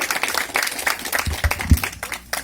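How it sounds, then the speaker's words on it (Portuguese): A church congregation applauds after a call from the pulpit, giving a brief burst of scattered clapping with a few louder low thumps near the middle. "Mais uma salva de palmas para Jesus."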